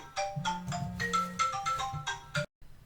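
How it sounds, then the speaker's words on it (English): A phone ringtone plays a bright, quick melodic sequence of electronic tones, fairly faint, then cuts off abruptly near the end. "Pardon my phone,"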